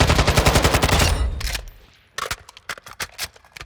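Gunfire from Call of Duty: Modern Warfare II, a loud rapid automatic burst that tails off into silence, followed by several sharp separate shots in an uneven rhythm.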